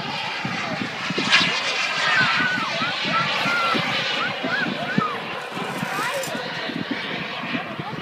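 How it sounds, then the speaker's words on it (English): A radio-controlled Eurofighter model jet flies at an outdoor model flying display, its engine a steady rushing whine that shifts in pitch as it passes, with people talking over it. "A Eurofighter."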